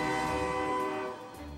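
A large ship's whistle sounds in one loud, sustained harmonic blast that holds steady, then tapers off near the end, with no talking over it.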